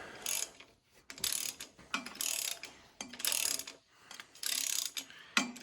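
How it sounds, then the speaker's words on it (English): A ratchet tightens the last bolt on a John Deere B tractor, giving bursts of rapid clicking strokes about once a second, close and fairly clear, with brief gaps between pulls. "I'll get to work tightening these down and bring you back in on the last one."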